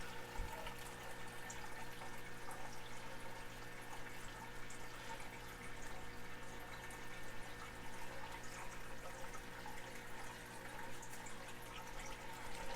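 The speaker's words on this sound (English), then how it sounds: "you might be able to hear the water starting to go in the back of my tank" Water runs steadily into the back of a planted aquarium tank during a water change, a constant close trickling and rushing wash that holds level throughout with no talk.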